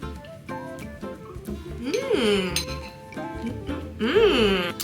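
Glasses clink together in a toast over a breakfast yogurt bowl, a few bright ringing taps close by, mixed with background music and voices.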